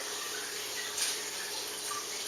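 Rice being mushed and swirled by hand in a bowl of water to wash it for brewing sake, a steady close watery swishing that stays even throughout with one brief brighter splash near the middle.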